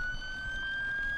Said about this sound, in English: Sorry for that siren.